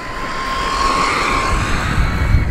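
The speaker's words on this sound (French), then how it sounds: "Je pousse et full throttle." A VKAR Bison V2 RC car motor runs at full throttle outdoors, giving a continuous high-pitched whine over a rough, windy background roar.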